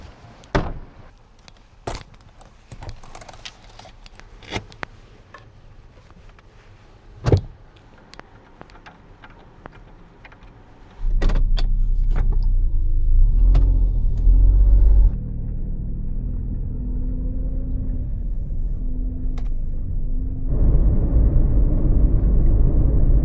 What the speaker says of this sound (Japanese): ガソリンスタンド寄って洗車機当てます。